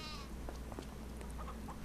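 Goats bleating in the farming video game Farming Simulator 25, a few short, faint calls rising over a steady low hum of ambient farm background.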